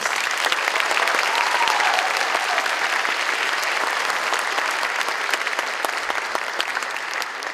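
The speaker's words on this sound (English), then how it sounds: "join me in giving them all one big round of applause" An audience at a dream ceremony applauds steadily and loudly for a group of young dreamers, dense clapping holding an even level from start to finish with no voices over it.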